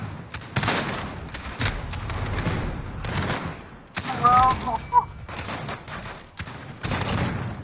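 Rapid gunfire in the Sniper Wars video game, repeated sharp shots in bursts throughout, fairly close, with a person talking over the action.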